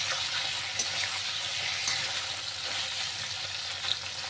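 Frying in a hot iron wok, where a steady hissing sizzle runs throughout with a few sharp clicks and pops from stirring, close up and with no voices.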